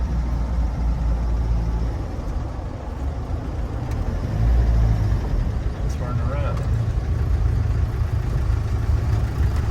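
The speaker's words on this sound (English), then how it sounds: "Turbo comes on strong and loud." A 1996 Land Rover Defender 90 with a turbocharged engine drives along, a loud, steady mid-pitched engine drone and low rumble running throughout, with someone talking briefly over it.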